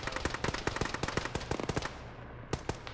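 Rapid bursts of automatic gunfire in a military tactical shooter game, with sharp repeated shots crackling in quick succession before a brief lull and a few more loud reports.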